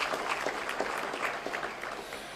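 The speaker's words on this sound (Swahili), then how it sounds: "Tupigipigie makofi watu wa Taita Taveta." Conference audience in Taita Taveta breaks into applause, a dense, steady patter of many hands clapping at moderate volume throughout, with a faint murmur of voices underneath.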